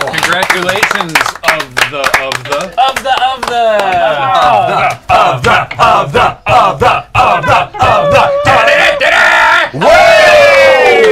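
A small group of friends indoors cheers and shouts excitedly during a party game of Monikers, with loud bursts of whooping and overlapping yells, a rising cheer near the end, and talking mixed in.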